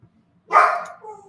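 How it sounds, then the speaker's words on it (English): A single dog bark close by, loud and sharp, trailing into a shorter whine-like yip, barking at geese outside near water out back. "What are you barking at?"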